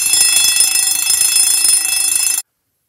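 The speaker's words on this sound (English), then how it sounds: "That's a pretty tone coming off those bells." Vulcan Autosonic Mk 60 spring-powered, heat-sensitive fire alarm bells ring loud and close in a rapid, continuous metallic clatter, then stop abruptly.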